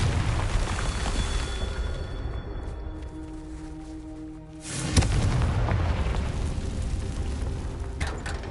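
A Confringo blasting curse explodes in Hogwarts Legacy, a sudden boom near the middle cutting through a dense, steady bed of game ambience and music, with a second smaller burst near the end.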